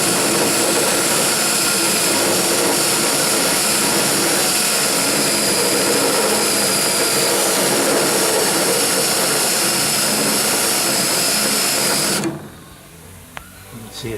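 A power drill bores through the quarter panel metal of a 1977 Camaro Z28, a loud continuous whirring grind held steady for several seconds before cutting out to quiet shop ambience.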